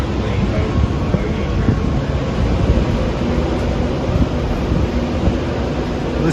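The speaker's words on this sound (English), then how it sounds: "Listen to those Fs rev up." R&N F unit diesel locomotives with GP38-2 style engines revving on the Lehigh Gorge Scenic Railroad, a loud continuous low rumble with rail and wheel noise heard from a trailing passenger car.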